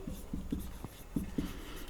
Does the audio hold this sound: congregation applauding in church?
no